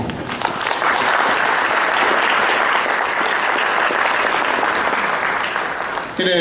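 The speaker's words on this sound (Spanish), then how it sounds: "Muchísimas gracias por esos aplausos" Steady, dense audience applause fills a lecture hall after a Spanish-language academic talk, a continuous wash of many hands clapping at even loudness for several seconds before cutting off.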